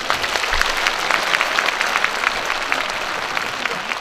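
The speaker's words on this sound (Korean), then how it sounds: "유양분들 박수 한번 쳐주시오." Festival crowd at a Korean pumba street-performance festival in Yongin breaks into steady applause, many hands clapping densely and continuously, moderately loud and close.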